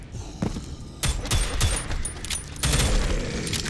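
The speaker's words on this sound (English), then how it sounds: "I'm guessing if you hold down mouse button, you do rapid fire" Rapid-fire gunshots from a weapon in the shooter game Prodeus crack in quick bursts, several sharp loud shots layered over rumbling booms.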